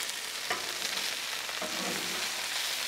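Chicken wings sizzle and crackle on a hot Blackstone flat-top griddle, a steady loud fry with brief scraping and stirring bursts as the pieces are moved around, no voices.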